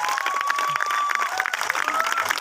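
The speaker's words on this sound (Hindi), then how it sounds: "ताली नहीं बजाओगे क्या उनके लिए?" An audience at a talk show applauds a guest with steady, dense clapping throughout, accompanied by a sustained musical tone.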